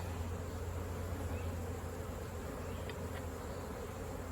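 Honeybees humming around an opened Layens hive as brood frames are lifted out, a steady close buzzing drone without any speech.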